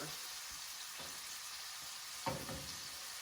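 Lamb chops searing in a hot pan give off a constant loud, dense sizzle, with a brief crackle and clatter near the end as the pan or meat is shifted.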